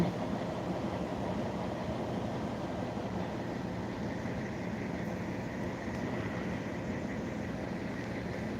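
A steady, heavy rumble of a passenger train led by a locomotive rolls past nearby on the Hel line, a continuous mechanical roar with no pauses.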